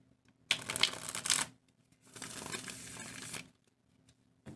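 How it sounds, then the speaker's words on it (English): A tarot card deck is shuffled in two quick riffling bursts, crisp and close, with a brief pause between them in an otherwise quiet space. "I like the way this deck shuffles. It's so nice and smooth."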